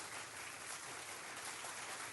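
Applause on a News Talk 1080 WTIC radio broadcast, steady and dense, with no talking over it.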